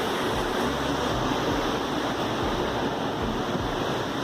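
Continuous rough surf and churning sea wash in the Roaring Forties, whitecaps on the open ocean, with a heavy low rumble, likely with wind, steady and loud throughout.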